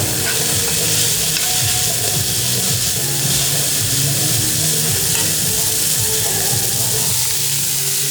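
An egg fries in a lidded pan with a splash of water, giving a loud, continuous sizzle and steamy hiss that stays even throughout, with no talk over it.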